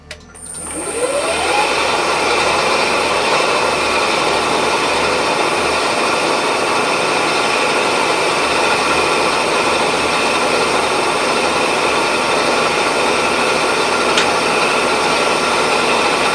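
A metal-cutting machine takes a 50 thou cut on a steel tool holder block at 1500 RPM, a steady loud grinding whine with a high tonal ring that holds level from start to finish after a brief rising spin-up.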